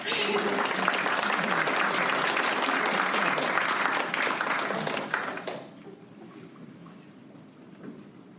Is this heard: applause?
yes